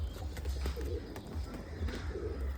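Tournament racing pigeons coo in low, soft, repeated throbbing calls, close by, with faint chirps above and no talking.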